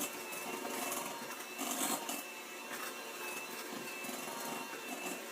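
Electric hand mixer beating pumpkin bread batter made from cake mix in a bowl, a steady close whirring drone with rattling texture that swells slightly as the beaters move.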